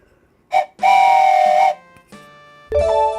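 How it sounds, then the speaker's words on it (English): Steam train whistle in the OpenTTD railway game: several loud, sustained tooting blasts of varying length, close and clear, with no talk. "let's get a little train whistle in on that."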